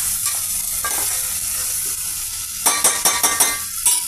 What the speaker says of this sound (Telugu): ఒక పెద్ద సైజు టమాటా పీసెస్, పెద్దల్లిపాయ, పచ్చిమిర్చి అన్నీ ఆయిల్తో ఈ విధంగా ఫ్రై అవుతున్నాయండి